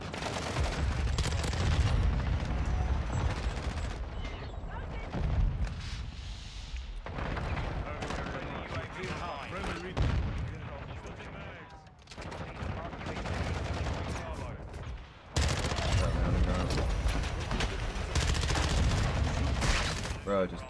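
Rapid submachine gun fire from the BAS-P in Call of Duty MW2 chatters loudly in repeated dense bursts, with short pauses between volleys and booming impacts mixed in.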